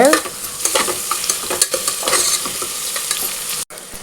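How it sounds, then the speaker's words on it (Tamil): Onions sautéed in a pan for mushroom biryani produce a loud, continuous sizzle with brisk, repeated spatula scraping, close and steady throughout, with a brief dropout near the end. "வெங்காயம் பொன்னிறமாக மாறணுங்க, அது வரைக்கும் வதக்கிக்கிட்டே இருங்க."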